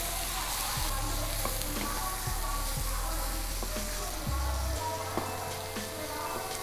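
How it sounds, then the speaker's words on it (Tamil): Tomatoes and onions sauté together in a pan with a steady broadband sizzle, close and moderately loud, joined by a few scattered clicks of stirring and a low hum underneath. "இப்போ இத எல்லாமே சேர்த்து ஒரு 3 ல இருந்து 4 நிமிஷம் நல்லா வதக்கணும்."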